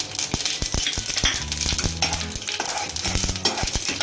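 Mustard seeds, cumin, sesame and peanuts stirred in hot oil, heard as a close, busy sizzle and crackle with the frequent clatter and scrape of a spoon against the pan throughout.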